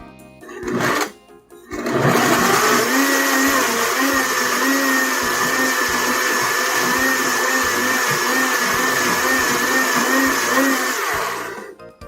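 A blender starts after a brief click and whirs loudly and steadily for about ten seconds blending apples, its motor pitch wavering slightly before cutting off.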